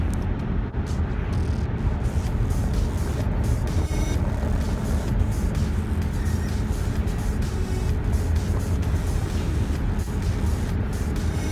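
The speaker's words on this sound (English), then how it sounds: "The diesel engine is not loud and it can accelerate well when needed" Cabin view of a Skoda Kodiaq diesel SUV on a morning drive, a constant loud drone of engine and road noise with a steady rumble and no clear gear changes or voices.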